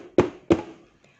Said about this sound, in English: Unkie Umbrella Bird knocked on the raccoon's door.